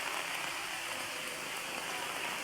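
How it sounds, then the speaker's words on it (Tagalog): Heavy storm rain pours down in a steady, dense hiss of drops striking surfaces near the sea during a typhoon, continuous and even throughout with no talking. "Sobrang lakas talaga ng ulan."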